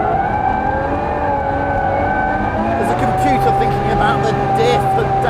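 A Ferrari 812 Superfast V12 holds a loud, sustained engine tone with clear harmonics that climb gradually in pitch, with a voice speaking over it partway through.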